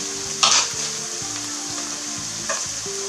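Onions fry in a pan for a Corsican ciambotta, giving a continuous close sizzle with a couple of brief scraping stirs and a light clink early on and near the end.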